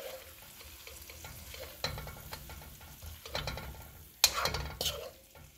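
Firm tofu stir-frying with vegetables in a hot pan, a quiet sizzle broken by repeated spatula scrapes and tosses, with louder clattering bursts toward the end.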